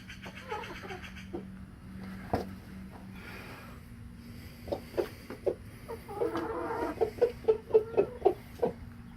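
Bantam hens inside a chicken coop give soft, scattered clucks at first, then a quicker run of short, fairly close clucks over a low steady hum, with no talk.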